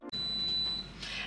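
An air fryer chimes as the chicken drumsticks finish cooking, a single short, bright electronic beep that rings clearly, followed by a fainter second tone.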